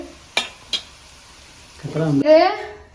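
Hot oil sizzles in a pan while laddu is being made, beginning after two sharp clinks of utensils and swelling into a loud, bubbling hiss that rises near the end.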